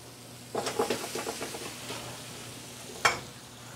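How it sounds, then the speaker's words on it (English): Tomato paste and cherry tomatoes sizzle softly in a pan as a spoon stirs them, with a cluster of close scraping strokes and one sharp knock against the pan. "We're going to stir this up."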